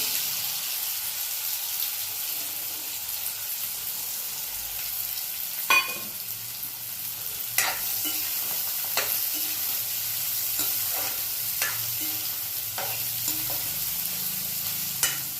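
Onion tipped into garlic already frying in oil, giving a steady hiss of sizzling with scattered scraping stir strokes and clicks throughout, close by and with no voices.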